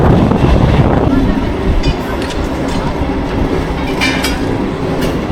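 A Kharagpur–Balasore MEMU local train rolls slowly along the track past works near Jaleswar, giving a loud, steady rumble and rattle from inside the coach, with some wind noise and faint clicks.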